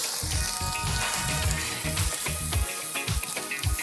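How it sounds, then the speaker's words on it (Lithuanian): Onions sizzling in hot oil in a wok heated to around 200 degrees, a loud continuous crackling hiss with bursts of spattering throughout, close up and without talk. "Įpilu aliejaus, pirmiausia apsikepinu svogūniukus."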